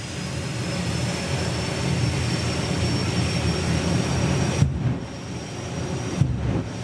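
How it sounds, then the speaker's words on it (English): Jet turbine drag racing car at a drag racing festival, revved hard while shooting flames, giving a loud sustained broadband roar that holds steady with two brief dips near the end. "as he brings up the RPM on the turbine, the flame show just gets fiercer"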